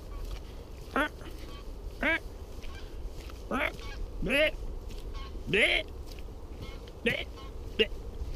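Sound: geese honking while flying

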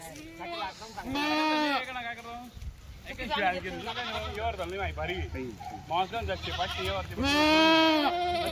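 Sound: Kathiawari goat bleating

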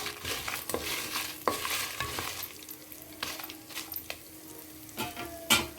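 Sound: dry red chillies and sesame seeds frying and being stirred

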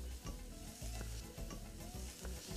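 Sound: garlic sizzling in a hot frying pan

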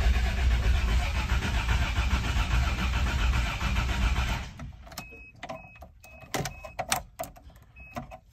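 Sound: Toyota FJ62 Land Cruiser engine cranking

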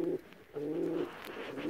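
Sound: pigeons cooing

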